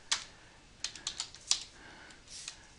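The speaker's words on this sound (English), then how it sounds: "type a little comment" Short bursts of typing on a computer keyboard in medical billing software, a handful of quiet, crisp key clicks in uneven clusters, close and alone.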